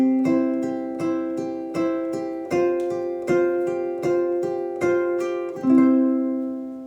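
Plucked ukulele strumming a repeating pattern, about ten evenly spaced strums ringing close and clear, with the last chord left to fade out.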